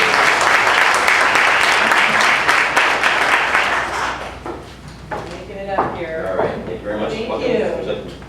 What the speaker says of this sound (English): Catherine, please raise a round of applause.